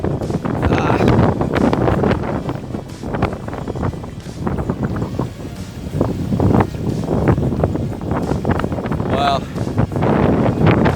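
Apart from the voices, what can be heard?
strong wind at sea on a sailboat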